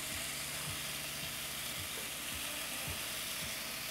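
Impossible Burger patties sizzling on a Ninja Foodi XL Grill, a steady close hiss of frying with faint intermittent clicks and pops underneath.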